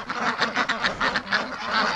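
Many ducks in a pen quack loudly and constantly at close range, the harsh calls overlapping in a rapid, pulsing chorus with no pauses.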